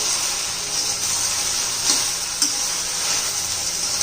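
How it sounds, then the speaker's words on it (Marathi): Okra being stirred with salt in a frying pan, a steady close sizzle with soft scraping strokes of the spatula throughout, no talk. "व्यवस्थित मीठ मिक्स करून घेऊ"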